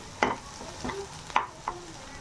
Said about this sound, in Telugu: మసాలా ఇలా వేయించుకోవాలి. నూనె ఇలా పైకి వచ్చేంత వరకు వేయించుకోవాలి.